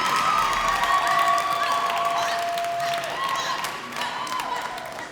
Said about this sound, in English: Please clap it up for every poet that graced this stage tonight.